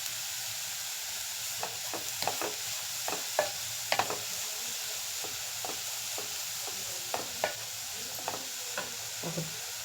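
Finely grated carrot frying in a pan for carrot jaggery fritters, with a soft constant sizzle under repeated close scraping stirs at an uneven rhythm.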